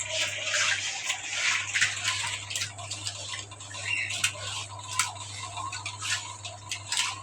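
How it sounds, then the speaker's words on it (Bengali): Tilapia is scrubbed with salt in water, giving irregular close splashing, rubbing and small ticking knocks that run on for several seconds with no talk. "মাছটা লবণ দিয়ে ধুইতেছি"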